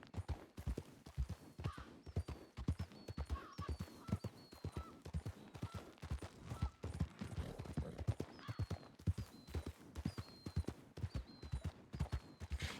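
Horse hooves clip-clop steadily during a ride in a video game, a continuous, even gait of soft, close hoofbeats for the whole stretch, with a faint whinny in places.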